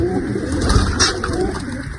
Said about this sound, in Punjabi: ਇਧਰ ਆ ਸਾਰੇ ਫੈਂਸੀ ਕਬੂਤਰ ਰੱਖੇ ਆ